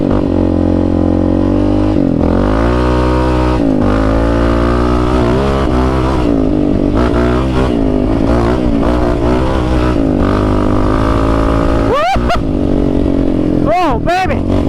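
Yamaha Raptor 700 ATV ridden on dirt, its single-cylinder engine loud and close, revving up and down through repeated throttle surges with a couple of sharp rev spikes near the end.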